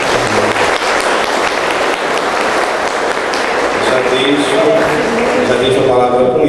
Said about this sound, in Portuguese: e também peço uma salva de palmas